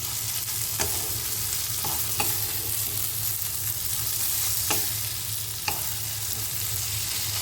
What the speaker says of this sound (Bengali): মশলাটা মিশিয়ে নেওয়ার পর খুব ভালোভাবে কষিয়ে নিয়ে মাছটা এরকম দেখতে হবে